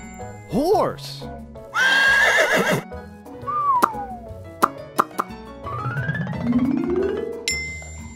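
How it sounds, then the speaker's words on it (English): A horse whinnies loudly in two bursts, a high rising neigh then a longer shaky one, followed by cartoonish pops, whistles and a musical sweep. "Horse."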